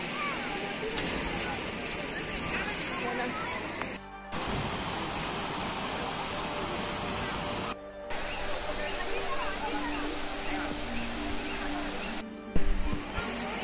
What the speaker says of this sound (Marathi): तर आता आम्ही खालती जातो तिकडे मिनी वॉटरफॉल आहे थोडा.